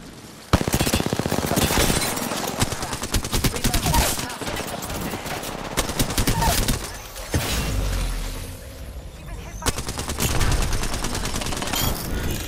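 Rapid automatic gunfire rattles almost without pause through a firefight in Apex Legends, loud dense bursts with brief lulls and shattering impacts, alone with no talk over it.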